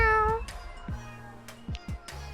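A street cat meows in the Boyfriend Dungeon video game, with one clear, close drawn-out meow at the start followed by several softer short chirps and trills, and no talk.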